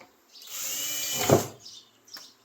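A power drill drives a self-tapping screw into steel during a shop steps build, one rising whir for about a second that bogs down as the screw seats, followed by a short second burst.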